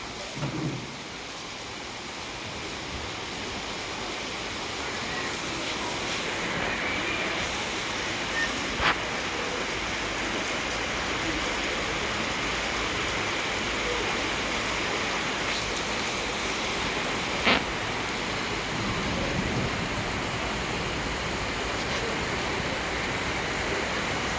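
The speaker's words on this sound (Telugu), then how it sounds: "వర్షం అయితే ఫుల్ ఫుల్గా అయితే వస్తుంది ఫ్రెండ్స్ చూడండి" Heavy rain pours down steadily in a dense, continuous hiss that stays loud and even throughout, with a couple of faint brief clicks and no talking.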